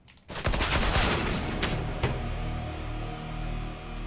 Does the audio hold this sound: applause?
no